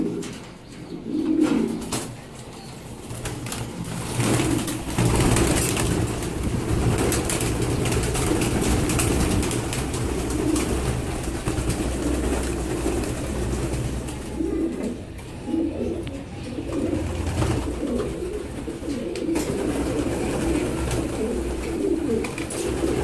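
Racing pigeons waiting for release coo continuously in a loft, overlapping low throaty calls close up with a few soft chirps and wing rustles, steady and fairly loud throughout.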